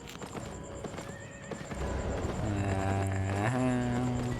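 Horse in the Albion game arriving with a few clip-clop hoofbeats, then a loud, close, drawn-out whinny with a rising and falling tone, heard alone without talk.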